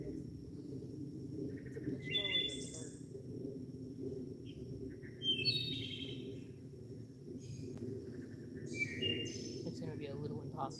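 Birds chirping outdoors at night-time investigation site, scattered high tweets and short calls rising over a constant low rumble, fairly faint and intermittent, with no talk.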